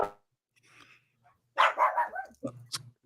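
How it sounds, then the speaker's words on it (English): Dogs bark in a short burst of three or four loud, close barks after a brief faint sound and a quiet gap. "That's your dogs this time, huh?"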